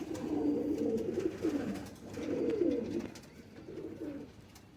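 Soft, low cooing from a high-flying teddy breeder pigeon in three rolling phrases, fairly close, with faint background noise and no talking.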